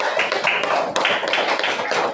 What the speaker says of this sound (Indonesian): terima kasih, tepuk tangan untuk.